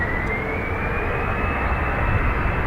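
An Aer Lingus jet airliner in Rugby livery lines up on runway 28 Right at Dublin Airport, its engines giving a loud, steady roar with a faint rising whine throughout.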